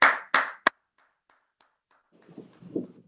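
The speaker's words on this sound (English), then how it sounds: "Let's give Orlando a round of applause." Applause at a children's event about COVID and school reopening: three sharp, close hand claps in quick succession, then near silence before a faint voice begins speaking.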